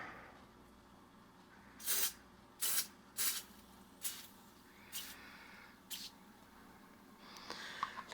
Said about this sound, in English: Now, let's use the aerosol. Give it a little shaky shake.